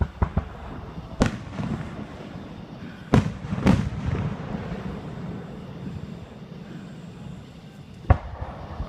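Fourth of July fireworks burst outdoors in several sharp, loud booms spread unevenly across the stretch, with a steady low rumble and crowd murmur between the blasts.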